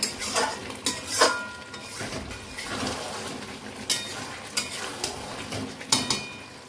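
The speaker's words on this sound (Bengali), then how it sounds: "তো এদিকে এই যে মাংসটা কষানো চলছে" Meat, likely mutton, is sautéed in a pan with a steady sizzle, and a spatula scrapes and clanks against the metal in sharp, irregular strokes, heard close up with no talking.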